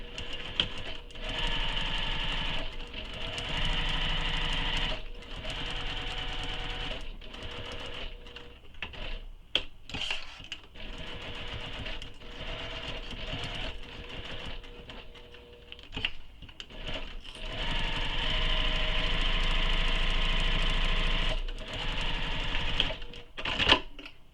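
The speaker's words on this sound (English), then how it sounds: "we're going to base stitch this to the foam" A sewing machine base-stitches tote bag fabric onto foam, running in a steady, close mechanical whir with a few brief pauses and speed changes throughout.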